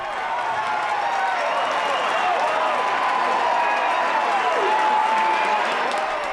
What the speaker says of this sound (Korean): 수많은 이들이 환호성을 지르며 응원하는